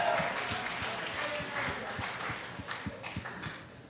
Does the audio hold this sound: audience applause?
yes